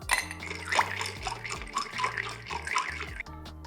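Cold brew drink being poured into a glass, a continuous splashing liquid pour with gurgling and shifting pitch as the glass fills, close and steady, no voices.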